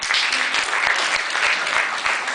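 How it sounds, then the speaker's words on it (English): Audience applause for a speaker at an employability skills session, steady dense clapping from a room of people filling the whole stretch without any voices. "let's clap first for her."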